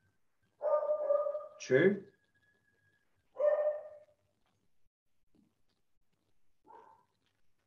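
A beagle gives two short barks, then a third yelp after a pause, with a few faint whimpers trailing off; a voice speaks briefly in the clip.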